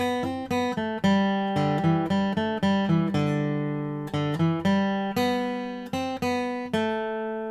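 A plucked guitar plays a quick, lively bluegrass melody alone, the opening bars of "Shove the Pig's Foot," each note struck crisply and ringing briefly before the next.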